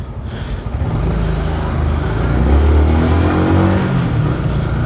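A Yamaha MT-125 motorcycle pulls away in first gear, its engine rising from a low idle into a loud, steady, close-up rumble with a deep throb that holds through the end.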